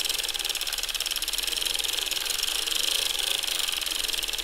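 A Bonnet 2.0 crank knitting machine being turned produces a steady rapid clicking and whirring with a regular mechanical rhythm, close and fairly loud, with no voices.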